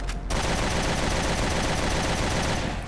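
Sniper rifle gunfire in the video game Resident Evil Revelations 2, a sustained burst of loud, dense shots packed into about three seconds with no speech.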